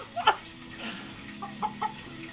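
A pet rooster makes a few short clucks and soft calls, close by but fairly quiet, spaced out over a low background hum with no talking.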